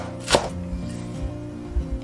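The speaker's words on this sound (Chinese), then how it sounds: "葱绿切葱花" A knife chops scallion greens into small pieces on a board, a few distinct close, crisp knocks spaced irregularly, one sharper strike standing out, with no talking.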